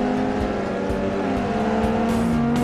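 Race cars in Forza, including a Chevy Volt and Tesla Roadster, with engines whining in steady layered tones under tire and road noise, punctuated by short low thumps as cars jostle close by.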